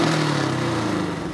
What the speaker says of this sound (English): that burble, is just my cats shooting out the back of my exhaust.